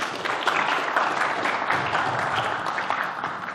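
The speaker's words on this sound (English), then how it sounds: "Let's give a big round of applause for David." Conference audience applauding a returning speaker at a talk on AI agent swarms; steady, dense clapping from a mid-sized crowd, held evenly for the whole stretch with no talking.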